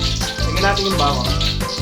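Garlic sizzles steadily in hot cooking oil for kare kare, a continuous close frying hiss with no pauses across the short stretch.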